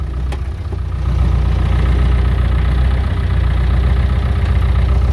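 Diesel tractor engine idling just after a cold start on a snowy winter day, a loud, steady low rumble with a slight knock that rises in level after the first second and holds.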